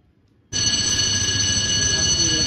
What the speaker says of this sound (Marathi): आपले भट्टीवरची फोन लाव बरं त्याला.